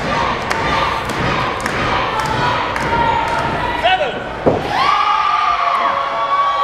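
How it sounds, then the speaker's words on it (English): Wrestling crowd at a Big Valley Wrestling fighting championship, a steady roar of cheering and shouting from a packed room, with thuds of bodies hitting the ring and a commentator's voice under the noise. "Crowd getting behind Shade to try to get him some momentum."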